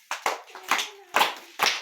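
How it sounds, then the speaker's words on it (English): Children clapping during an early childhood care session at a community library, five short sharp bursts of claps in quick succession, close and fairly loud, with a faint tone between them. "Clap for yourselves."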